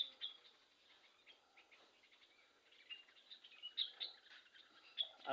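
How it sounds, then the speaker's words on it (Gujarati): Many sparrows gathering at a feeding spot chirp in scattered, faint, high-pitched tweets against a quiet outdoor background, with a few brighter calls standing out here and there. "ચકલા અનેક આવી જાય।"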